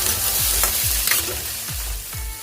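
Ginger, garlic and onion fry in a pan for Manchurian, a close, constant sizzle broken by a few low knocks and scrapes as the mix is stirred.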